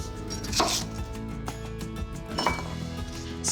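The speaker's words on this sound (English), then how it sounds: "I just cut them into thirds" A knife chops baby corn into thirds on a cutting board: a quick series of sharp, close taps with faint clinks between them.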